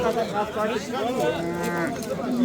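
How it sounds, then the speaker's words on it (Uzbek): A cow at a livestock bazaar gives a long, loud, close moo that wavers in pitch through the whole moment, with a voice partly overlapping it. "sizlarga ajoyib yaxshi sigir ko'rsataman"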